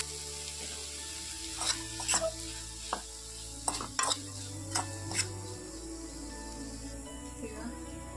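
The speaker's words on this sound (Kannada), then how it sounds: "ಸಾಸಿವೆ ಚಿಟಪಟ ಅಂತ ಇದೆ." Mustard seeds crackle and pop in hot oil for tempering, with onion and dried red chillies in the pan, giving scattered sharp spits over a soft steady sizzle, fairly quiet and close, with some background sounds.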